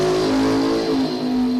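A drag race car engine at a bracket drag racing national event roars steadily at high revs, a loud sustained tonal drone that shifts pitch slightly as it keeps accelerating.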